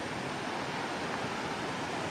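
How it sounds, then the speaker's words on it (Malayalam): A stream running full near a waterfall at Kakkadampoyil, Kozhikode, making a dense, continuous rushing wash of water that stays loud and even throughout, with no voices. "തോടാണ്, തോട് നിറഞ്ഞു പോണതാണ്."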